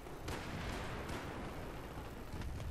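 A C4 explosion in the video game Battlefield 3 heard as a dense, continuous roar of blast and rumble with sharp cracks near the start and end, loud and filling the whole stretch with no speech over it.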